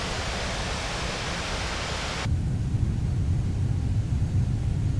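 Simulated Airbus A320neo thrust reversers on landing: a broad, loud engine roar that abruptly drops its high hiss and shifts to a heavier low rumble, holding steady to the end.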